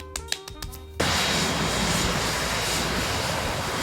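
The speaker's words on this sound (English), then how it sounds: "The Azul A320neo coming in from Berlin." An Azul Airbus A320neo jet comes in to land at Fort Lauderdale airport, heard as a loud, steady broadband engine roar that starts abruptly after a short stretch of tonal music and holds at full strength.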